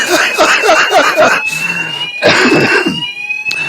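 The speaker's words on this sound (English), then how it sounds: "the fire alarm's gone off" A fire alarm sounds a continuous high electronic tone throughout, while people talk loudly over it nearby.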